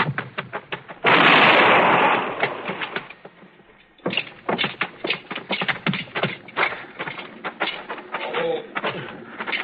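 A gunshot rings out in a Western radio drama, a single loud blast with a long trailing decay, followed by a steady rhythmic clatter.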